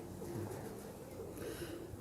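Golden 222 breed pigeons cooing softly in a loft, low murmuring coos repeating faintly against a quiet, slightly noisy background.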